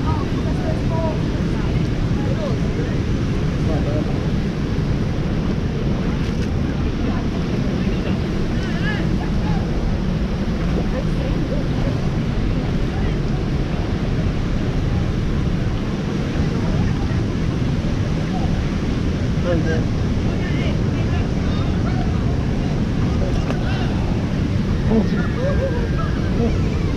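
Rushing water at Tahquamenon Falls roars in a loud, unbroken wash of broadband noise that fills the whole stretch, close and constant with no pauses.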